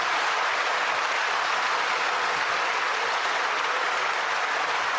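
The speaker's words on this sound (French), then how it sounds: "si j'en juge par vos applaudissements" A roomful of people applauding at a French business panel discussion, a dense continuous wash of clapping at even loudness from start to finish with no voices over it.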